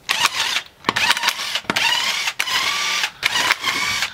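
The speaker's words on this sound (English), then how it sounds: "So now we're gonna remove the wheel off the car." A Chevy Impala's wheel being taken off, with repeated whirring bursts of a power impact tool loosening the lug nuts in short, sharp runs broken by brief pauses, close and loud.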